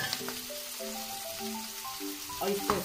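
Onions and green chillies sizzle in hot oil, a close, steady frying hiss with a few clinks and stirring scrapes toward the end, and a voice audible underneath.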